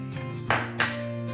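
Soy sauce and a whole head of garlic being mixed for beef adobo with coconut milk, with two bright clinks of a utensil striking the bowl or pan and a soft scrape, close and clear with no talk.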